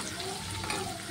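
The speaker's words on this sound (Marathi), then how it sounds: "आता इथे मिरची घालूया, ते सुद्धा छान असं परतवून घ्यायचं आहे" Green chillies sautéing in oil in a pan for rustic Schezwan chutney, a steady close sizzle running unbroken throughout with no talk.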